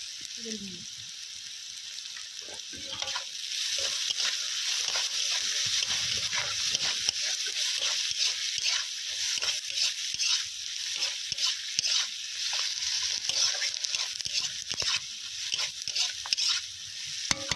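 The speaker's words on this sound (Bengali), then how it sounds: "পেঁয়াজগুলো ভালোভাবে ভাজা হয়ে গেলে এরপর টমেটো কুচি দিয়ে দেওয়া হবে।" Onions sizzle and crackle steadily in oil in a pan, with occasional stirring scrapes and a brief voice near the start.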